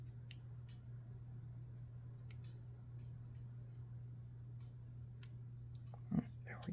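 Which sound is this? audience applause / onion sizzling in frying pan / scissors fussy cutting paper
scissors fussy cutting paper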